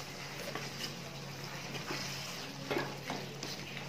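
Chicken stirred with biryani masala in a pot, giving soft scraping and stirring noises over a steady low background hum, with no talking.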